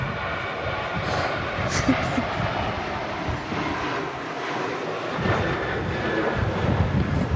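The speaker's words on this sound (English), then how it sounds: "Ryanair heading out to Brussels, Charles de Gaulle" A Ryanair airliner departs Manchester Airport for Brussels in strong gusty wind, giving a steady broadband jet roar with wind buffeting the microphone and faint voices in the background.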